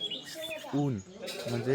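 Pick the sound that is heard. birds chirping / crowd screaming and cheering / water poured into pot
birds chirping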